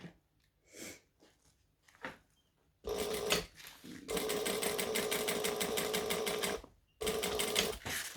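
A sewing machine stitches a seam on a pocket in two long bursts of steady, close-up whirring and needle clatter, with a brief stop between them and a restart near the end; quiet handling sounds come before.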